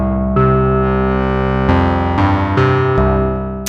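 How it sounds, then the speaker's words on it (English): An ARGON8 synthesizer plays a wavetable tone that starts as an FM-infused sine and brightens in the mids and highs toward a sawtooth, sustained notes changing pitch in a steady sequence, loud and alone. "it gradually picks up in the mids and highs and becomes sort of a cross between an FM-infused sine wave and a sawtooth"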